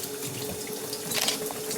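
Shower water running steadily, a hissing, splashing spray with a faint tonal hum underneath and a brief louder burst partway through, close-up and with no talking.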